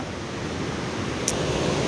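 Steady, dense roar of rushing water fills the clip, broad and unbroken like a nearby waterfall with spray, at Unchalli Falls on the Aghanashini River, with a brief faint tick near the end.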